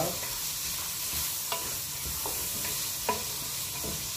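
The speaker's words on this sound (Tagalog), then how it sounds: "Pero ang carrots, habang ginigisa" Small diced carrots sauté in a hot pan with a steady sizzle, while a utensil stirs and taps against the pan now and then. No one speaks.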